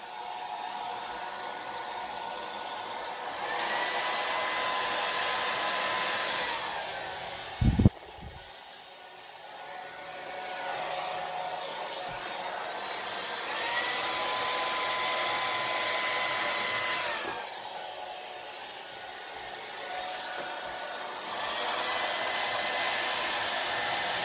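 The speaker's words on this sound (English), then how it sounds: "And I put my blow dryer right through it." A blow dryer roars steadily over an acrylic pour painting, cutting out briefly after a clunk and then starting up again, loud and near with a constant airy whine.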